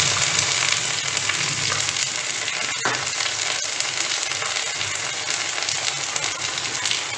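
Ginger and salt frying in a pan, a dense steady sizzle close up with a couple of brief clinks from stirring.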